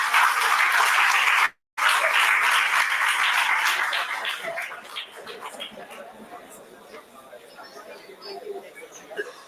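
A DevFest Vizag 2023 main-stage audience applauds as a speaker is welcomed. Loud clapping breaks off once, then gradually thins and fades into murmuring crowd chatter.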